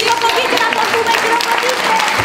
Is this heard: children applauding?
yes